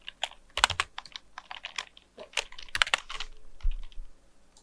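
Close, crisp computer keyboard keystrokes come in irregular bursts and single taps while text is typed into Photoshop, with no voices over the clicking.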